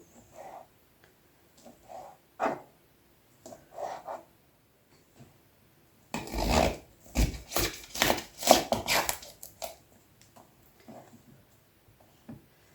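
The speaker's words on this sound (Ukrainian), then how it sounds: "Всі продукти нарізаю кубиком." Sharp, irregular knife taps on a cutting board as vegetables are diced into cubes for pizza toppings, sparse at first then a fast dense burst of chopping, close and fairly loud.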